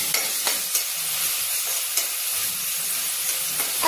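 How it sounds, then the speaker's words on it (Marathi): Chopped onions frying in a pan with cumin and mustard seeds, a steady bright sizzle with a few light stirring taps every second or so, close and alone. "कांदा भाजला पाहिजे ना थोडा वेळ"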